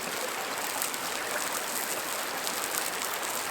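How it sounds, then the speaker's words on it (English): A babbling brook in winter woods, its steady broadband rush of flowing water continuous and fairly close, with no voices or other sounds over it. "in the woods next to the babbling brook"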